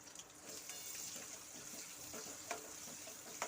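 Chopped onion frying in a pan for a Konkan chicken rassa, a steady broadband sizzle with light crackles and a couple of sharper pops, continuous and close with no talking.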